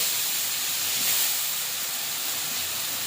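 Lentils tipped into a pan of sizzling fried spice paste cooked down with turmeric, giving a steady, loud broadband hiss and crackle that holds evenly throughout with no talking.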